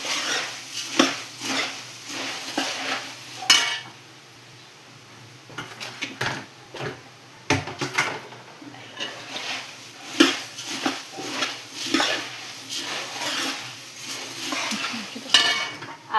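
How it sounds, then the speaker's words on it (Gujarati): Puffed rice (mamra) roasting in a pan for a tempering, with repeated scraping, stirring and clinking of utensil against metal in irregular bursts, close and moderately loud. "આ ખાલી મમરા શેકવાના"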